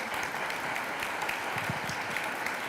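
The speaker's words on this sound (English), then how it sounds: "a round of applause for our panel today." An audience at a 2023 women's celebration event applauds a panel, steady dense clapping filling the room throughout at moderate volume.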